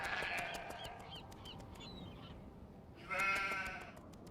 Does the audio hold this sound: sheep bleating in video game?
yes